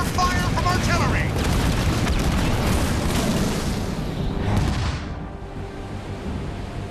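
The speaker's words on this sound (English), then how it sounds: "Being pounded by artillery." Heavy artillery bombardment pounds a battlefield in the real-time strategy game Halo Wars 2: a dense, continuous roar of booming blasts that rolls on loudly, then eases into a lower rumble, with in-game voices faintly mixed in.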